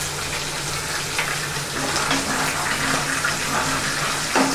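Spice paste roasting in a pan for fish curry makes a steady, watery sizzle and bubbling hiss throughout, with a few faint scrapes and no speech.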